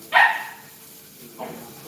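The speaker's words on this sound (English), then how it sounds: "What are you barking at?" A dog barks twice indoors in a home kitchen during breakfast cooking: one sharp, loud close bark, then a softer second bark about a second later.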